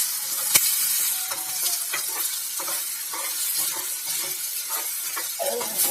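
Egg frying in oil crackles softly while a spoon stirs and scrapes through the pan at an irregular pace, close up, with a faint watery background and no talk.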